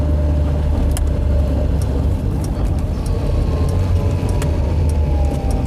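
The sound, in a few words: Skoda Favorit car engine on road test at roundabout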